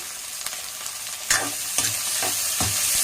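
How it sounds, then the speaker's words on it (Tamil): Onions sautéing in a pan for a potato kuzhambu, with a soft continuous sizzle and a few sharp scraping stirs of a spoon, close and fairly quiet, with no talking. "வெங்காயம் நல்லா வதங்கணும்."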